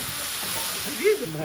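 Chicken fries in a pan at a Christmas evening cooking session, giving a steady, close sizzling hiss throughout with a brief louder flare near the end.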